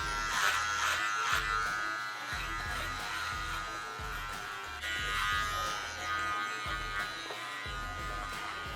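Electric hair clipper cutting a man's hair in a classic haircut, a steady close buzz pulsing in short strokes as the blade moves over the head, no talk.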